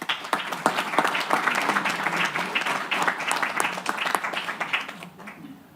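Audience at a UN summit event claps steadily for several seconds, a dense patter of many hands that holds then tapers off near the end.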